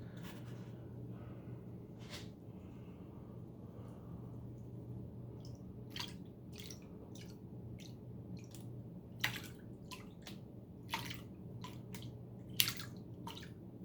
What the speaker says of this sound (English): let's put a little bit more water in there